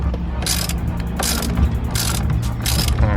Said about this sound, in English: all you gotta do is tighten down this nut